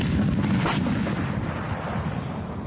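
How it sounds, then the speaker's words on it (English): An artillery battery fires during a 1996 demonstration at Fort Bragg, a single heavy boom at a distance, rolling and echoing out over a low rumble. "rounds fired by Alpha Battery for the immediate suppression mission"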